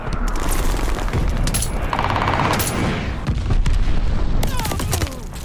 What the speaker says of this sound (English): enemy glide bomb on the way